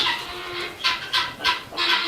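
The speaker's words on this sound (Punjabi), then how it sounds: "ਇਹ ਕੁੱਕੜ ਆ ਗਏ ਬਾਈ ਜੀ ਆਪਣੇ ਅਸੀਲ ਸੁਣ ਦਿਖਾਉਣੇ ਆ ਜੀ" Aseel roosters clucking nearby in a series of short, bright bursts, four or five calls in quick succession over a soft background hiss.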